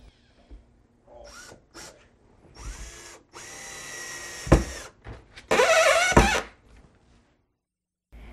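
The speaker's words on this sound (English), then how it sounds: "So we're marking where the framing pieces are and pre-drilling and screwing down through the plywood." A power drill whirs in several separate bursts of varying length while pre-drilling and driving screws down through plywood into framing for a tile countertop, with quiet pauses between runs.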